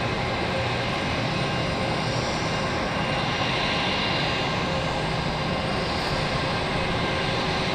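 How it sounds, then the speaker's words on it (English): Embraer E-175 jet taxiing out at Raleigh-Durham International Airport at sunrise, a steady broad roar of engines at a distance, continuous and unchanging, with no voices. "The E-175 made its way out before our JetBlue."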